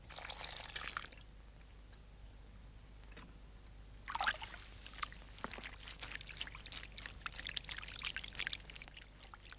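Wool fleece being hand-washed in soft water, pressed gently so it will not tangle or felt, giving soft sloshing and pouring splashes in two bursts, one at the start and a longer stretch from about four seconds on, with quiet dripping between.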